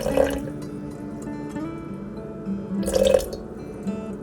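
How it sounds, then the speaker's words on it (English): Water pouring into a mixing bowl on a kitchen scale while making a simple sourdough loaf, a soft liquid trickle and splash with a brief louder pour near the end, close and quiet, no talking. "So then I'm going to add my water"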